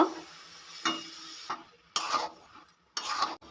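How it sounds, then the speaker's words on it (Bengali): Boiled dal being stirred into spices in a pan for a dhaba-style egg tadka: a few separate bursts of scraping and sizzling, each about half a second long, with quiet gaps between them, close by and without speech. "ডালগুলো মশলার সঙ্গে ভালো করে মিশিয়ে নেব"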